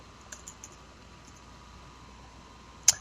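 A few soft, quiet keystrokes on a computer keyboard tap out a server name in a still room. A sharper, louder key click comes near the end.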